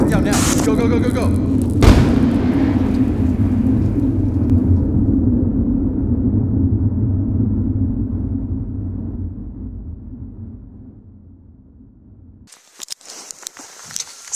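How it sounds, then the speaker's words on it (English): A deep thunderclap during a lightning storm on Mount Adams, a Cascade volcano, booms loudly and then rolls away in a long fading rumble over about ten seconds before the sound cuts to quieter noise. "We were in the middle of a lightning storm."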